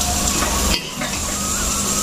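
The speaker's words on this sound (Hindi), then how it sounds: "अभी सब्जी में फ्राई करूँ" Vegetables fry in a hot pan with a loud, close, continuous sizzle that dips briefly partway through, then carries on steadily; no one speaks.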